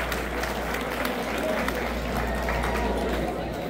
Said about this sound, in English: can we get another round of applause for these two boxers?